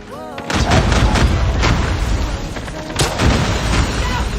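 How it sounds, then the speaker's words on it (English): An airstrike pounds the map in a Call of Duty multiplayer match, a loud continuous barrage of heavy booms and rumbling explosions that overlap for several seconds, with faint game voice callouts early on. "Friendly airstrike."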